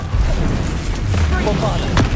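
A Confringo spell explodes in Hogwarts Legacy, a short muffled boom with low rumbling during a brief, busy stretch of combat.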